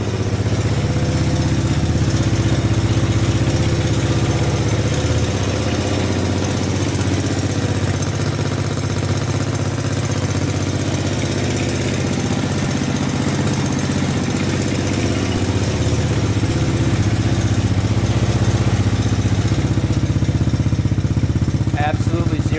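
A Honda ATV that sat unsold at a dealership for years, now with a repaired carburetor, idles loudly and steadily up close, its even low engine rumble continuing without revving for the whole stretch.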